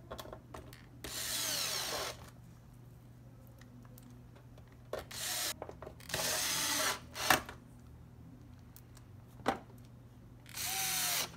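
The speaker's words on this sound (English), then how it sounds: "install the short screws that we removed that hold the hard drive and the power supply in place" Screws being driven back into an Xbox One S case to hold the hard drive and power supply, heard as several short bursts of whirring tool noise with quiet pauses between, close by and without speech.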